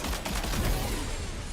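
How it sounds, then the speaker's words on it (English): Video game gunfire crackles in a dense burst of overlapping shots, loud and close, blurring into a continuous rumble. "Shoot him."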